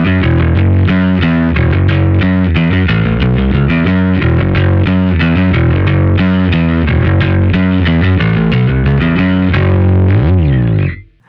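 A high-gain electric guitar runs through an Atomic Sans overdrive block on an Anagram KosmOS unit with no cabinet block, playing a dense, distorted riff of chugging notes and chords at a constant loud level before cutting off at the end.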